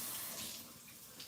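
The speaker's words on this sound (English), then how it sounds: "so I'm gonna just wash it off real quick." Pan rinsed under a running kitchen tap, with a short, steady hiss of flowing water splashing close by and no voices.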